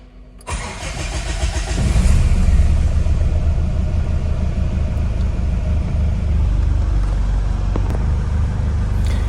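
A Mitsubishi Pajero engine catches after a brief start and settles into a steady, close mid-pitched idle with a low rumble that continues evenly to the end, with no voices.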